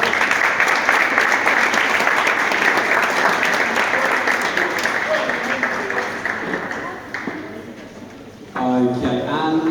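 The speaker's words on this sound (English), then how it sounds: "Give them a round of applause." An audience applauds graduates of a football development programme in a hall, sustained steady clapping for most of the stretch that thins out toward the end, after which a voice begins to speak.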